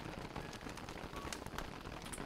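Steady rainfall in Don't Starve Together, a soft continuous patter of drops with faint crackles, moderately quiet and even throughout, with no voices.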